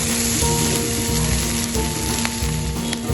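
Capsicum (shimla mirchi) sautéing in a hot pan gives a loud, steady sizzle and crackle with faint stirring scrapes, close and continuous.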